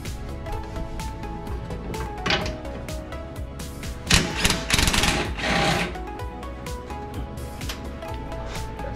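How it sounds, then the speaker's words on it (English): Bolts coming off an Audi A5 being dismantled, a rapid buzzing rattle of a power tool running almost continuously, with louder bursts midway and faint clatter underneath. "So we're about to start pull these four bolts off."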